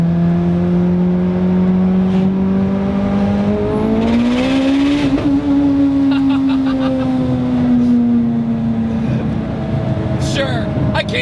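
An 825 hp Mitsubishi Lancer Evolution revs hard under acceleration, the engine tone climbing steadily and loudly from inside the car, then holding high as it keeps pulling.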